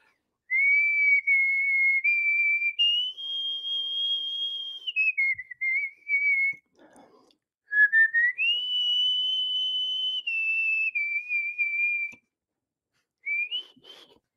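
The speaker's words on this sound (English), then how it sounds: "Whistle the Spanish song." A person whistles a Spanish song solo, a clear sustained melody in long held phrases with short breaks between them, close and alone without talk.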